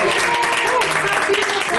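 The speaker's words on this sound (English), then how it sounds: "Can we actually give them a round of" Applause for dancers at a live performance, a dense steady patter of many hands filling the room at fairly loud level, with some voices mixed in.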